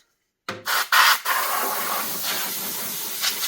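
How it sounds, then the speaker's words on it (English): Several short, sharp hissing bursts of a Windex spray bottle onto a cloth come close together after a brief silence, followed by a soft lingering rustle. "just take a little Windex and spray it on the cloth."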